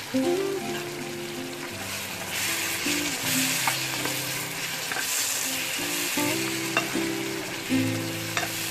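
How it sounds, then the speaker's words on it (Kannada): Steady sizzling of a tempering for bisi bele bath frying in a hot pan, with intermittent stirring scrapes and clinks, close up and continuous with no talking. "ಚೆನ್ನಾಗಿ ಫ್ರೈ ಮಾಡಿ"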